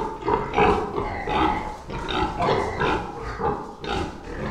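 Pigs on a small farm give repeated rhythmic grunts and snorts, close and fairly loud, in a steady series of short bursts with no talk over them.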